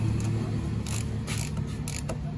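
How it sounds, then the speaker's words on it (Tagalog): A bolt is tightened by hand during a top overhaul of an XRM 125 carburettor motorcycle engine, with a few sharp metallic ratchet clicks in short bursts over a steady low background hum, close by. "Ngayon natin to totally na higpitan."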